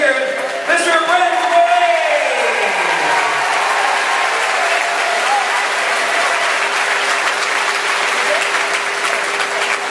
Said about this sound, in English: let's hear it